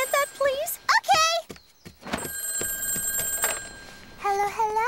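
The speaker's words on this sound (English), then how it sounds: "The telephone's ringing." A telephone bell rings for a couple of seconds in an animated clip, a steady electronic trill between bursts of excited, high-pitched voices.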